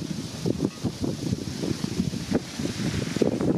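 Wind blows across a sailing boat, a continuous gusty rumble of wind noise on the microphone with faint water wash underneath and no voices.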